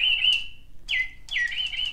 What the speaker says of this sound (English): It's a singing and dancing motion activated bird. It's a blue jay and it does have an on-off switch.